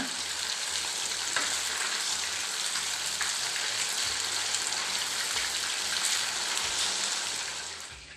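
Steady oil sizzle of chicken 65 frying in a pan, a dense continuous crackle that holds evenly throughout and fades slightly at the end, with no voices.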